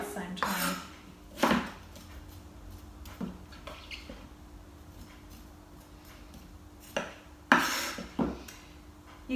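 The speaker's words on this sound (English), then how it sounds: "You can take the seeds out with the knife like I just did then" A knife scrapes seeds from the soft inside of a pumpkin while pumpkin and potato curry is prepared, giving scattered, close scraping strokes and light clinks against a quiet kitchen background.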